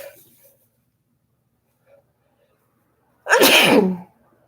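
A single loud, close sneeze bursts out near the end after a few seconds of near silence.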